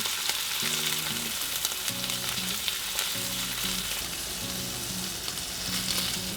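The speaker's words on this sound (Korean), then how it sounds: "구우실 때 기름이 튀면서 명란도 튀니까 조심해 주시고요" Pollock roe sizzling and crackling as it fries in oil in a pan, a continuous close hiss with popping spatter, with faint, regular background tones running beneath it.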